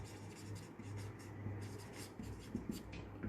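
Pen or chalk scratching out a definition during a class, a continuous soft rubbing stroke with brief pauses, close and fairly quiet.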